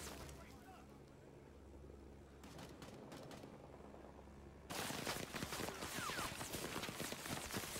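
Gunfire from an airship in the video game Rising Storm 2: scattered distant shots, then a sudden burst of loud, rapid firing continues to the end.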